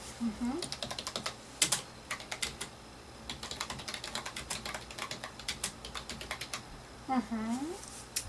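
Close, soft typing on a computer keyboard while filling out a job application, irregular bursts of key clicks throughout, with brief quiet voice sounds at the start and near the end.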